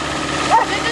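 A cold engine on a homemade redneck rollercoaster revs high after a first-try cold start in the snow, a steady rough drone with one brief rising whine in the middle, heard over background noise.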